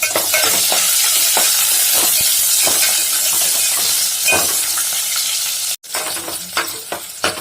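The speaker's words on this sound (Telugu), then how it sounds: "అందులోనే ఆనియన్స్ వేసుకోవాలి" Onions fry loudly in hot oil with tempering spices, a dense continuous sizzle punctuated by regular scraping strokes of a spoon against the pan, briefly dropping out before the hiss resumes.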